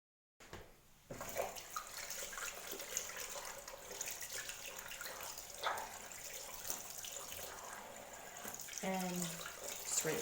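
A tap runs steadily into a sink while a face is rinsed, a faint, close trickle with small splashes and shifts in the flow.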